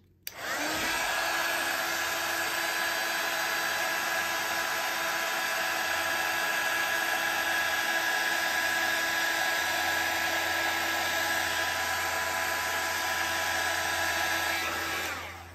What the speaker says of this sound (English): I used my heat tool,